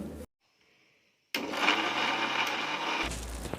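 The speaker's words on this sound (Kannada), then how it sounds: "ಎಲ್ಲವನ್ನು ಸೇರಿಸಿ ಮಿಕ್ಸಿಯಲ್ಲಿ ಗ್ರೈಂಡ್ ಮಾಡಿಕೊಳ್ಳಬೇಕು." A kitchen mixer grinder grinds spice masala with tomato and coriander leaves for mutton sambar, a loud, steady whirring motor that starts abruptly after a short silence and runs for about two seconds before cutting off.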